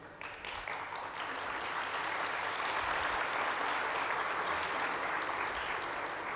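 An audience at a summit panel on humanitarian crises and conflicts breaks into sustained applause, a dense and even wash of clapping that builds quickly and holds steady throughout.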